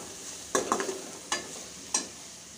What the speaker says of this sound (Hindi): प्याज को हम अच्छे से भून लेंगे, थोड़ा सा ब्राउन कलर का होने तक इसे हम कुक करेंगे